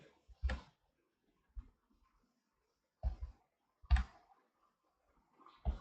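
Computer mouse clicks while working in Simulink Stateflow, a few sharp isolated clicks spaced irregularly, including a quick double click, close and quiet with silence between.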